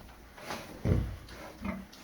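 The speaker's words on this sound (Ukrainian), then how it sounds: "Це свинка первачка" A few short, low grunts from a white hybrid sow on a small farm, close and fairly quiet, coming in two or three brief bursts.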